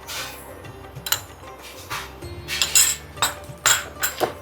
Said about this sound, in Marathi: तीळ उडायला लागतात